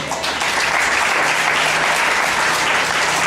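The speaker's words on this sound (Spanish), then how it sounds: "Denle un aplauso a él" A church congregation bursts into loud, sustained applause, many hands clapping in a dense, steady roar close by that fills the whole moment with no talking over it.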